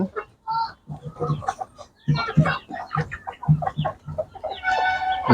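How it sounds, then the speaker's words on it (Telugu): Young chicks and hens on a poultry farm cluck and cheep continuously at close range, a busy overlapping chorus of bird calls with a few sharper peeps. "పిల్లలు అనేది యాక్టివ్గానే ఉన్నాయన్నమాట"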